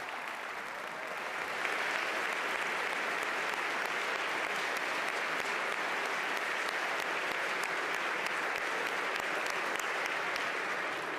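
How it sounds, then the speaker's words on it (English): A large audience at a governor's budget address applauds for firefighters in a sustained, dense ovation. It starts softly, swells within two seconds and holds steady in a big hall. "we should all clap for our firefighters."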